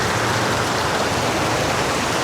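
Heavy rainwater pours down into a low spot near a canal by a toll gate in Paso de Blas, a dense, steady rushing wash with no breaks, loud and close.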